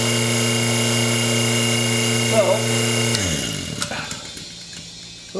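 A vacuum pump pulls air through an oil filter fitting during a Porsche Cayenne oil change, giving a steady motorized hum with harmonic tones that drops and winds down partway, followed by faint clicks and rustling.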